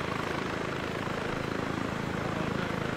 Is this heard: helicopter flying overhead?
yes